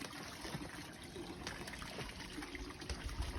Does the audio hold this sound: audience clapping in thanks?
no